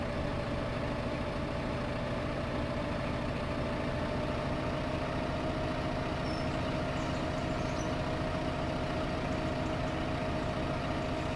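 A tractor engine drones in Farming Simulator 2015 while driving on a Great Smoky Mountain farm, loud and constant with a low rumbling hum and no pauses.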